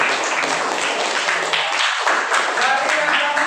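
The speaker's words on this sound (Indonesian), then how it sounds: "kita beri tepuk tangan atas kesimpulan yang kamu berikan ini" A classroom audience applauds with a steady, close patter of clapping hands that lasts throughout.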